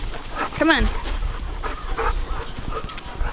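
A dog near a family cow in a farm barn, panting and letting out a short whimper with a rising, wavering whine, close by, while a person talks over it.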